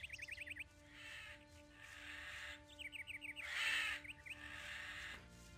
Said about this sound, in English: What is that sound? Ravens?